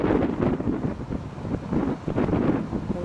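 Heavy wind buffets the microphone in a continuous low rumble that swells and dips, loud and close, with no voices.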